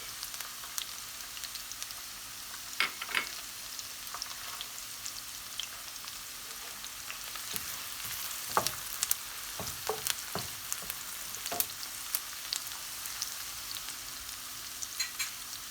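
Tomato paste and onions crackle softly in a pan for menemen, a faint steady sizzle broken by occasional clicks and scrapes of stirring.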